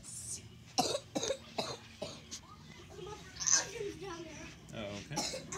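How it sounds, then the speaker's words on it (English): Someone coughs a few times in quick succession nearby, short bursts over background voices indoors, with someone speaking in the room and other talk under it. "Coughing gave it away."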